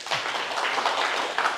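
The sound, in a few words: audience applause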